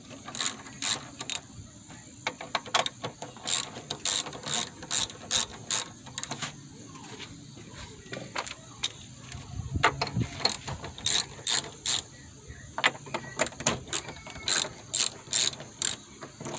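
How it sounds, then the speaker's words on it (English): Ratchet wrench with a 10mm socket clicks steadily as it backs out valve cover screws on a 2006 Kia Spectra, the rapid pawl ticks coming in repeated bursts with short pauses, close and fairly loud with no talk. "I get a 10mm, remove these 4 screws"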